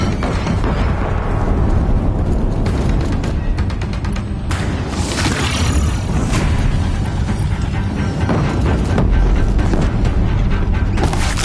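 A bridge blows apart under sustained fire in Horizon Zero Dawn, a continuous loud rumble of booms and crashing debris with repeated sharp impacts, no voices over it.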